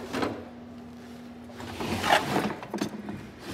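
Drawers of a metal tool chest in a house garage sliding open and shut, heard as a rolling scrape followed by a rattling clunk, close and moderately loud.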